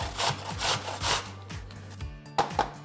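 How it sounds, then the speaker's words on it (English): An organic apple with its peel on is rubbed over a grater in a kitchen, producing several rhythmic rasping strokes, close and fairly loud, followed by a short pause and two sharper scrapes. "You can either chop it up or you can grate it up."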